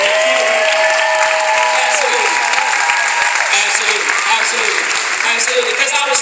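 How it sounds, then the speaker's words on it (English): Audience applauding at a Martin Luther King event, dense loud clapping filling the room continuously, with cheering and voices blended into the crowd noise. "Let's just give them a round of applause right now."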